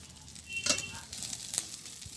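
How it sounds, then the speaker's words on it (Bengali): Fish frying in oil in a pan gives off a steady, close sizzle. Brief louder crackles and spits rise through it. "মাছটা একটু ভাজি করে নিই"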